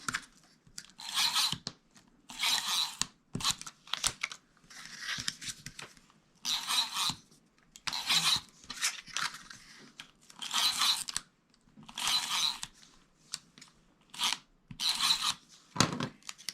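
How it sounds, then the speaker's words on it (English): A tape runner lays adhesive tape onto paper in a series of short, crisp rasping strokes with brief pauses between them, close and clear with no talking. "I'm just going to use my tape runner"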